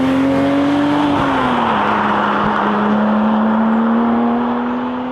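Porsche 911 GT3 Touring flat-six engine revving hard toward 9,000 rpm, a loud, sustained high-pitched wail with steady harmonic tones that dip briefly at a gear change and then climb again, close and continuous with no talking.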